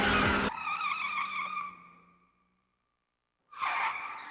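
A car in the Initial D racing video game screeches into a long tire skid that squeals and slowly fades over about two seconds, then a sudden loud crashing burst hits after a brief silence.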